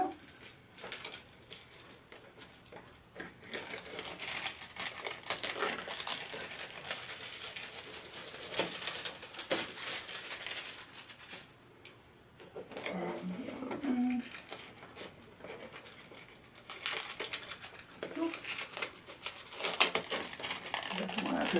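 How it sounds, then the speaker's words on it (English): Foil is peeled off a handmade shaker card, producing quiet, intermittent crinkling and rustling that comes and goes in bursts over about twenty seconds, close but faint. "Now I'm just going to remove this foil."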